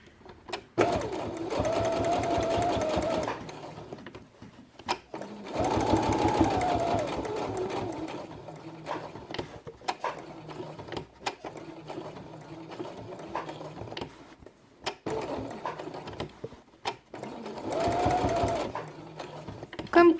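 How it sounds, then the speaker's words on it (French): A sewing machine stitches a felt quiet book page in several runs of rapid, steady mechanical whirring, with pauses between runs and brief handling noises. "je fais ma couture sur le trait"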